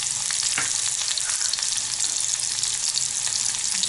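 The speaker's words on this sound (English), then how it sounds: "We'll saute all the vegetables." Garlic, onion and vegetables sautéing in a pan give a loud, dense, continuous sizzle close up, with a couple of faint knocks, alone without talk.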